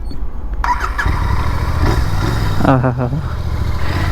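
A Royal Enfield GT 650 parallel-twin motorcycle cranks and fires up loudly nearby, then settles into a throbbing, uneven idle, with a voice briefly heard over the engine.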